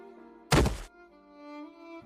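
A single heavy thud of a person dropping to the ground after being shoved, one short loud impact standing out against a quiet background, with no talk over it.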